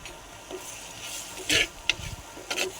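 Curry base with salt sautéing in a pan for a dried anchovy and brinjal kuzhambu, quiet low sizzle with a few scraping stirs and brief bursts of spoon noise against the pan.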